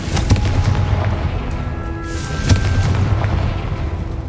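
A Confringo fire spell goes off in the game Hogwarts Legacy, its explosive booms thudding loudly through dense background game sound, with one strong burst near the middle.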